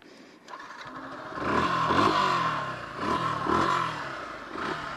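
Yamaha FZ-S V3 BS6 motorcycle engine idling and being blipped, with a steady exhaust burble rising into several short revs in quick succession, close and fairly loud, no talking.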